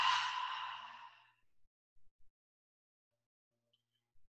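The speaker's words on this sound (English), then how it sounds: "Big open mouth exhale." A long, breathy open-mouth exhale during yoga practice, close and fading out after about a second and a half, followed by near silence with a few faint soft bumps.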